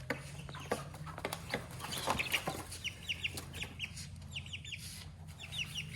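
Chickens cluck and chirp repeatedly inside a coop, soft and somewhat distant, with short bursts of fowl calls over a low steady background hum.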